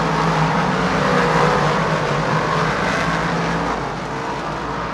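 Race cars roar wheel to wheel down the backstretch at Lernerville Speedway, a loud, steady wall of engine noise that eases slightly toward the end.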